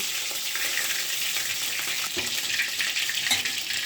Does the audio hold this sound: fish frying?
yes